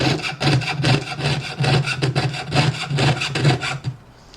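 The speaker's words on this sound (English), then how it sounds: "I'm also sawing to the outside of my line." A jeweler's saw cuts metal along a marked line on a bench pin, giving a steady, close, rhythmic run of rasping back-and-forth strokes with no talking.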